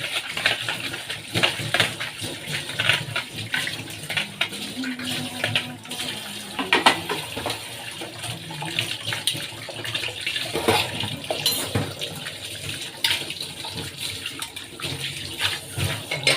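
Kitchen tap water runs steadily and close by into a sink while dishes are washed, a continuous rushing stream with faint clinks of utensils now and then.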